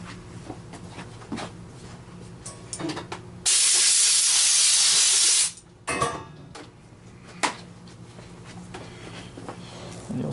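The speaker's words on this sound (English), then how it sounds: "we're going to just blow with compressed air right here and clean the lens out" Compressed air blasts in one loud, sharp hiss lasting about two seconds, blowing dust out of the lens on a Miele Dynamic U1 S7 upright vacuum, framed by quieter handling clicks and taps before and after.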